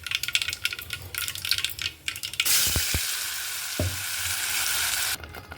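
Mustard seeds and masala spices frying in a pan for egg curry, a loud steady sizzle that swells when the spices go in, with a few clinks from the pan and stirring, close by.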